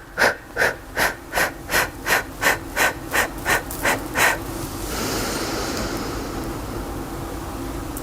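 Deep, even yoga breaths pulse about ten times in a steady rhythm, each a soft airy whoosh close to the ear, then give way to a longer continuous hiss of breath.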